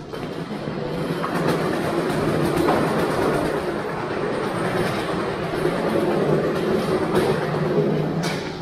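A train rumbles steadily nearby with a continuous low roar and occasional faint clatter, as if moving alongside a station platform.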